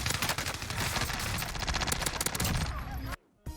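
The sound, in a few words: gunfire in the video game Call of Duty Warzone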